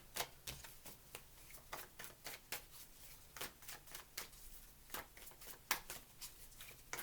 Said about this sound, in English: Too much shuffles.